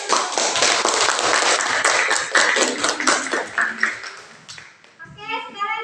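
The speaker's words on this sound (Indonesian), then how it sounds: "berikan aplaus dulu" Classroom applause for a student group's presentation, dense steady clapping from many hands for about five seconds, fading out as a voice rises at the end.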